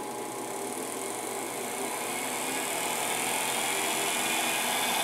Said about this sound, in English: you can see the motor start up as we go